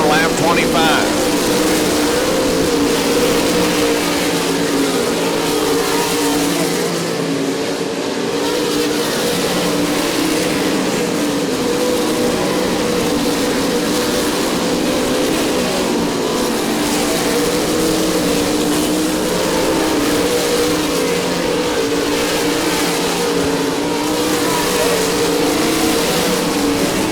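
Race cars lap Devils Bowl Speedway, a dense, continuous engine roar with sustained revving that stays loud throughout, and a commentator talks over it.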